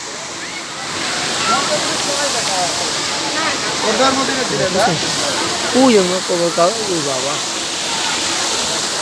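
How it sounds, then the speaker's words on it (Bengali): Waterfall feature at the NCC Adventureland amusement park, a steady broadband rush of falling, splashing water that continues throughout, with people talking and exclaiming over it close by. "তো এই যে দেখুন দেখতে পাচ্ছেন এখানে ঝর্ণা"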